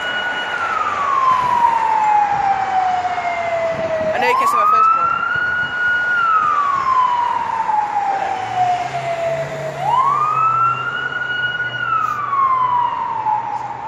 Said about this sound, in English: Just can't get away with the sirens